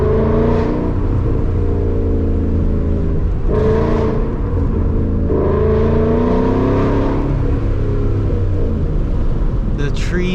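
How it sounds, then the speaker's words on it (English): A Ford Mustang GT engine revs and rumbles loudly in repeated surges, echoing off surrounding forest trees, with a steady low drone underneath. "the trees just makes the car sound 10 times louder"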